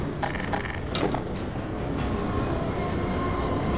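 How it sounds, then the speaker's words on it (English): A train rumbles overhead in Half-Life 2, a steady loud low roar of rolling wagons with rattling, clanking bursts near the start, continuous throughout with no talk. "I think there's a train on top of the tracks."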